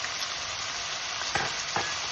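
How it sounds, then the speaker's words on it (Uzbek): Meat sizzles loudly and steadily in a hot pan, a dense crackling hiss with a couple of brief stirring scrapes. "Mana go'sht o'zini suvi tugaguncha yaxshilab qovuriladi."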